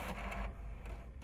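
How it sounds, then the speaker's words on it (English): An HP DeskJet 1200-series All-in-One printer feeds a page during a paper jam fix, giving off a moderately loud whirring and rattling mechanical noise that shifts partway through. "The printer feeds one page, then makes noises."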